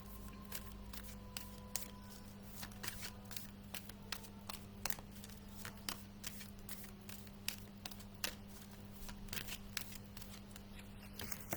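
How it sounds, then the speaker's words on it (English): Oracle cards being shuffled and pulled by hand: soft papery flicks, snaps and taps come in irregular bursts over a low steady hum, close and quiet, with no talking. "Let's pull a card for you."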